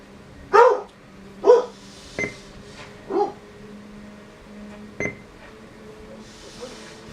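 A dog barks in short sharp bursts, about six barks spread over several seconds with pauses between them, fairly close, reacting to a running NordicTrack X7i incline trainer treadmill, whose motor hum sits low underneath.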